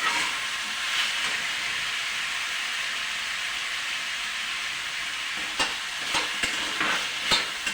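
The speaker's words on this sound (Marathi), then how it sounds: "बटाटे फ्राय झालेले आहे" Potatoes fry in a pan with a steady, close sizzle, and a few sharper crackles and stirring clicks come near the end.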